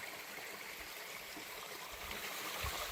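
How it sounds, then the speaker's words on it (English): Steady broadband rush of creek water flowing through a desert canyon at Red Rock Canyon, Nevada, continuous and fairly loud with no talking. "And you can see the creek here flowing through the canyon."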